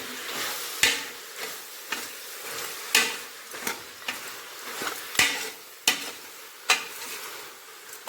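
Country chicken curry with salt and turmeric sizzles in a pan while a spoon stirs it, giving repeated scraping clinks against the pan over a soft, steady frying hiss, with no voices.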